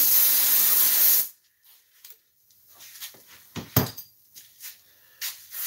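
A loud, hissing burst of spray adhesive for about a second while upholstering a tractor seat, then stops, followed by quiet scattered handling noises and light clicks.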